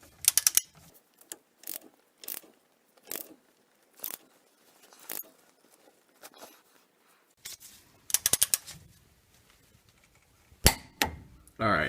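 A torque wrench set to about 60 foot-pounds tightens a tie rod end on a Ford Ranger, giving sharp metallic ratchet clicks in short spaced bursts, close and crisp against a quiet background, ending in a louder clack.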